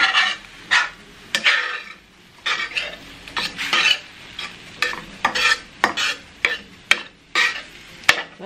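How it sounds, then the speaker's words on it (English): A spoon stirs water into taco meat sauce in a pan, with repeated scraping strokes and soft sizzling, an irregular rhythm of about a dozen close, distinct stirs. "We did say to stir in some water so the sauce can get all over, so we'll just stir in some water."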